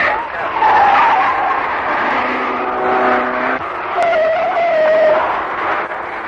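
Racing cars at the 1965 Armstrong 500 skid with loud, sustained tyre squeals that rise and fall in several overlapping tones over about six seconds, close and prominent with engine noise beneath.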